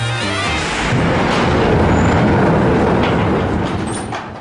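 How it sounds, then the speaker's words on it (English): Space Mountain roller coaster train at a theme park running along its track, a loud continuous rumbling roar that swells after the first second and holds steady, with faint high whistling tones above it and no talking. "See how the train goes"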